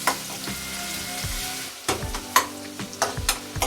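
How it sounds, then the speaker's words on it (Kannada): Sliced onions frying in oil crackle and sizzle while a utensil scrapes and stirs them in the pan, with irregular clanks and scraping strokes close up over a continuous hiss. "ಆನಿಯನ್ ಬಂದ್ಬಿಟ್ಟು ಬ್ರೌನ್ ಕಲರ್ ಬರೋವರೆಗೂ ಫ್ರೈ ಮಾಡ್ಕೊಂಡ್ರೆ ಸಾಕು"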